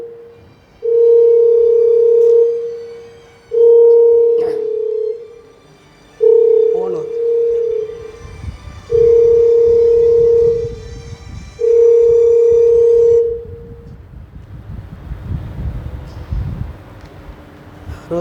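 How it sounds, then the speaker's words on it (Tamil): A telephone rings during a church sermon, five long, steady electronic tones spaced evenly and sounding loud and close, followed by a quieter rumble of room noise and movement. "தெரியாமல் ஃபோன் அடிக்கிறாங்க."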